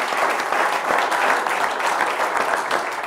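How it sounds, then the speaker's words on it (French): Audience applause at a French business innovation event, dense steady clapping from a sizable crowd, even and continuous with no voices over it. "On peut applaudir."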